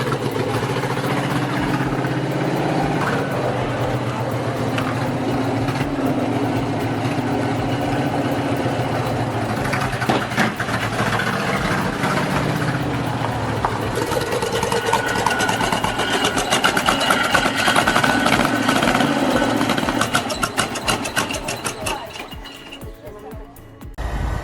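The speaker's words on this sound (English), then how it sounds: "Its engine provides a deep, resonant tone, complemented by the refined ride quality typical of mid-20th century" A mid-20th-century car engine idles with a deep, resonant tone, holding a steady low drone before growing busier and rattlier, then cutting away abruptly near the end.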